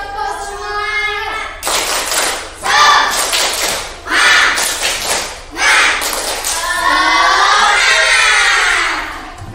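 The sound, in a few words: class clapping together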